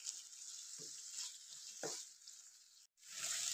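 Chana karahi cooks in a pan, a soft continuous sizzle with a couple of brief stirring scrapes and a momentary dropout near the end, quiet and without talk.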